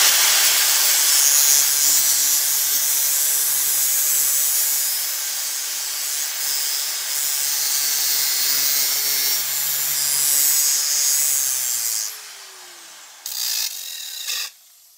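A handsaw rasps steadily through wood for about twelve seconds, cutting a little off the top of a piece during a build, loud and close, with rhythmic strokes before it stops and a few brief scrapes follow.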